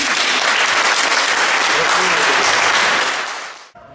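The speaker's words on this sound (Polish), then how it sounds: "Brawa dla nich!" Applause for a champion girls' football team from Rybienko Leśne, loud sustained clapping from a crowd that carries on evenly and then tapers off sharply near the end.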